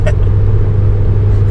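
A 2010 Volkswagen GTI engine hums and drones steadily from inside the cabin as the car accelerates, with a low, even rumble throughout.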